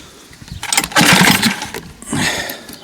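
Hankai 6.0 outboard motor with a carburettor fault sputtering as it is pulled to start: two rough, loud coughing bursts that catch briefly and die, with no steady running.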